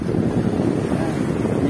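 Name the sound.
strong wind by the Pacific Ocean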